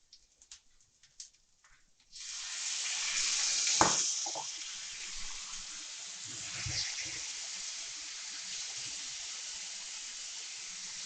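Chicken pieces hit a hot tawa already holding garlic and curry leaves, setting off a sudden, steady, loud hissing sizzle that carries on after a few light clinks.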